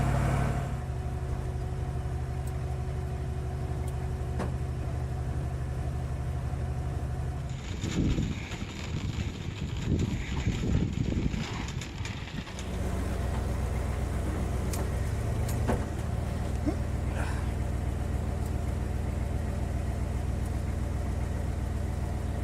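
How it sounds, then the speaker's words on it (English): A street-driven car fitted with a Rossler transmission rumbles steadily at low pitch, then a rougher, louder engine-braking burst surges for several seconds before the drone settles back to a smooth cruise. "But I want the engine brake."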